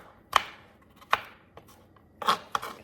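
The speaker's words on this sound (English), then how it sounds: "I'm just gonna cut them into small pieces" A knife chops tomatoes on a cutting board in a few distinct, sharp strikes, close and clear, with short pauses between cuts.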